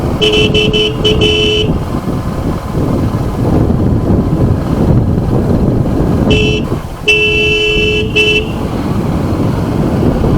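Vehicle horns toot repeatedly on a road in Uttarakhand, in several short bursts and longer blasts over loud engine and wind rumble heard from a moving scooter.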